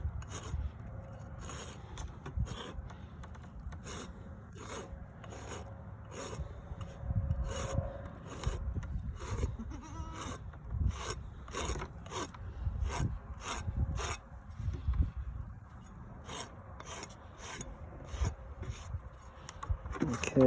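A hoof being trimmed and rasped, with rhythmic rasping strokes in a steady series of short scrapes, close and fairly quiet, with no talking.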